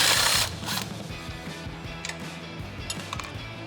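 A ratchet works on the bottom shock bolts of a 1997-2006 Jeep Wrangler TJ, giving a close, rapid series of clicking strokes after a brief louder rattle at the start.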